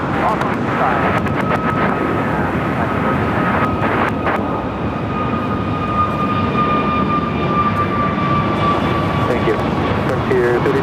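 Frontier airliner taking off at LAX: a sustained, broad jet roar with a steady high whine on top, loud and continuous across the whole stretch.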